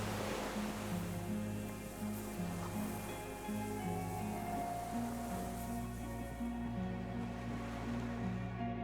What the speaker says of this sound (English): Water rushes below. Far below.